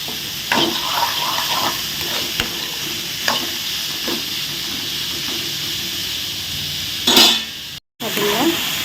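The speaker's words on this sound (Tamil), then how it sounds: "இதை வந்து நல்லா புரட்டி விடணும் ஒரு கொஞ்ச நேரம் இது வந்து எண்ணெயில் வதங்கட்டும்" Beetroot sautéing in oil fills the pan with a steady sizzle, broken by repeated scrapes and clanks of a spoon turning it over, close and with no talk, ending in a brief louder clatter.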